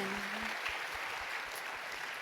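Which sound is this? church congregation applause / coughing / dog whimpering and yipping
church congregation applause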